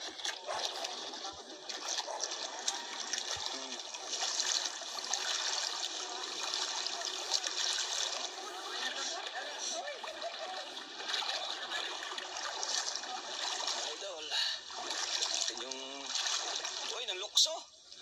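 A kayak without outriggers moves through clear sea water, with steady splashing and trickling close by under ongoing talk.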